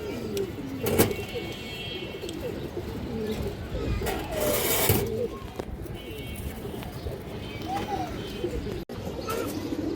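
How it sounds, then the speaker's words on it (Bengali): A khaki male pigeon coos among a loft of high-flyer pigeons, repeated low burbling calls over a busy background of other birds and someone talking throughout. "খুবই সুন্দর একটা খাকি নর কবুতর আছে"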